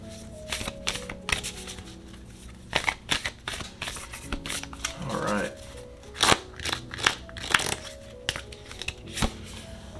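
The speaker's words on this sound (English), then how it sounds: "So let's go ahead and shuffle." Oracle cards are shuffled in quick bursts of riffling and slapping, close by, with short pauses between the flurries.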